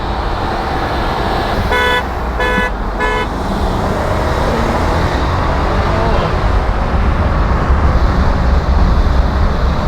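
Loud car engines of a Rolls-Royce and a Mercedes-AMG roar and rev steadily in a race, with a few short horn toots early on and constant road rumble throughout.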